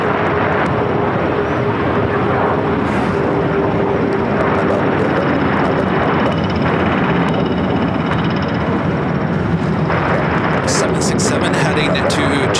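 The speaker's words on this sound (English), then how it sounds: "Do have a Delta 767 400ER heading 224 left here on the north side." Delta Boeing 767-400ER jet taxiing at LAX, a loud, steady broadband engine roar that holds throughout with a faint tonal whine riding on top.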